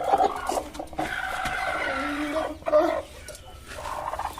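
Chickens clucking and squawking close by, with scattered bursts of calls over a busy, noisy background.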